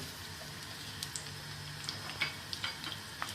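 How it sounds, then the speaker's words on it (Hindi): A medium-sized onion frying lightly in a pan gives a soft, even sizzle, with scattered small ticks and scrapes as it is stirred, fairly faint and close. "इसके अंदर मैं डालूंगी दरमियाने साइज की 1 अदद प्याज। इसको हम हल्का सा फ्राई करेंगे"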